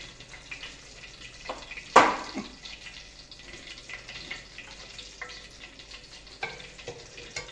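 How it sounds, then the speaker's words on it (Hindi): Chicken frying in hot homemade desi ghee for a dhaba-style chicken sajji, a continuous close sizzle with one loud burst of spattering and a few smaller pops and stirring noises, no talk. "अब मैं इसके अंदर ये डाल रही चिकन, ये मैंने इसके अंदर ऐड कर दी है, देसी घी में तल रही है।"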